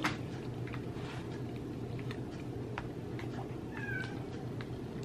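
A cat meows once, a short, clear cry near the end of a mostly quiet stretch with faint ticks and small eating noises around a meal.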